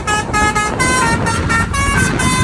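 Road traffic in India thick with honking car horns, loud, overlapping blasts sounding repeatedly and almost without pause over a steady engine rumble.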